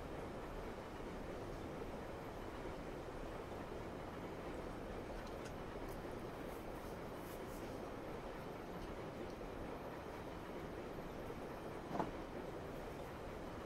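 A train in the Train Sim World video game runs with a steady, even rolling rumble and faint rail noise that carries on without a break, and one brief click comes near the end.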